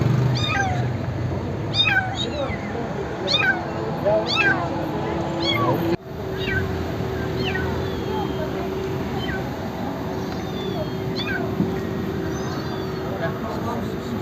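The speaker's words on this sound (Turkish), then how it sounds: "Telefonu açtım da çıksın diye kedi sesi koydum." Repeated cat meows played from a phone, thin and slightly tinny as if from a small speaker, sounding in a steady series over a low background hum.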